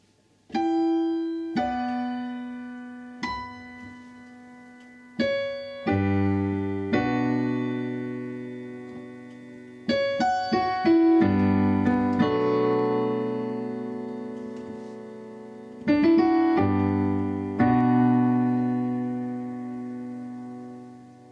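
Solo piano plays section 6 of a song, clear ringing chords and single notes struck in a slow, spaced pattern, each left to sustain and decay, with no voices.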